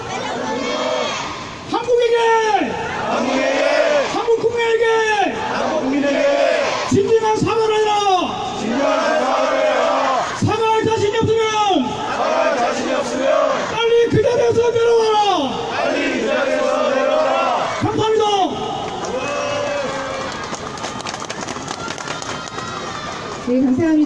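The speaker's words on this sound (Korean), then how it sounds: "그앞에서 구호를 외치고 증명하겠습니다" A protest crowd at the Wednesday demonstration for the Japanese military sexual slavery issue chants slogans together, repeated loud call-and-response bursts led by an amplified voice in a steady rhythm that trails off near the end.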